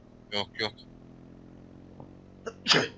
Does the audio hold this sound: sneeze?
yes